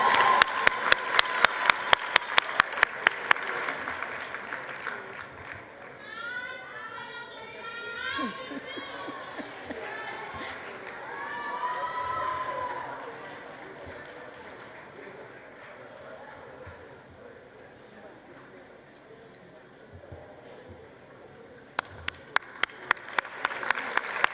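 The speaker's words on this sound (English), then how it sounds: "Another round of applause." Audience applause at a 2023 South African matric results announcement ceremony, clapping bursts at the start and again near the end, with crowd chatter and a voice over a murmuring hall between them.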